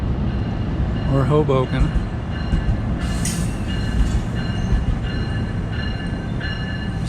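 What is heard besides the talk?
very long passenger train at Dover station, headed east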